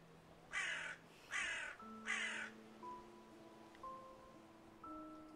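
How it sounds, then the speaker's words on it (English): A loud crow caws three times in quick succession, harsh bursts close by, followed by a quieter stretch with a faint, steady musical tone in the background. "I just heard a really loud crow."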